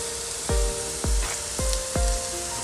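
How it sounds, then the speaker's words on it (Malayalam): Beef masala with chili powder sautéing in a pan: four sharp spoon knocks against the pan at regular intervals over a continuous soft sizzle, close and clear with no voices. "നമുക്ക് നന്നായിട്ടൊന്ന് വഴറ്റിയെടുക്കാം."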